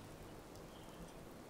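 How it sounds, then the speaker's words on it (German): Rain falls in the video game Fallout 4 as a steady, faint, even patter of drops with no voices over it. "Es regnet wieder, ist doch schön."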